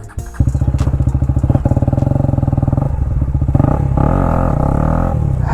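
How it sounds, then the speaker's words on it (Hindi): A KTM Duke 250 and a Royal Enfield-style Ronin motorcycle accelerate hard in a drag race, engines roaring loud and close with a steady pulsing growl that rises and shifts pitch through gear changes. "तो अब फटाफट से ड्रैग शुरू करते हैं"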